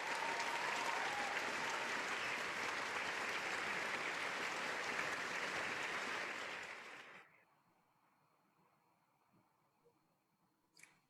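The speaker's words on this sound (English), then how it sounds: "Let's give a big round of applause to our outstanding first years." An audience at a university student leadership awards ceremony claps steadily for about seven seconds before the applause fades out into silence.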